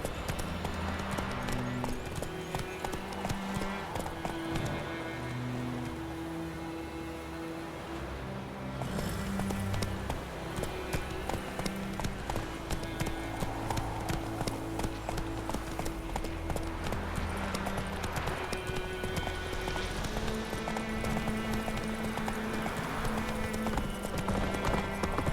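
Roach the horse galloping in The Witcher 3: Wild Hunt, a steady rhythmic clip-clop of hooves running throughout over layered game music, with a brief lull before the pace picks up again.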